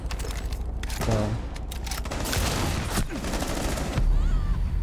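Gunfire punches through a wall in the console shooter Rainbow Six Siege during a tournament grand final, with bursts of rapid shots and booms over a busy game mix, plus faint talk.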